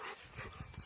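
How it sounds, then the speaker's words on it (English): A hyper, excited dog nearby makes quick, rough, breathy panting and snuffling noises in a short, busy burst. "Crazy hyper dog."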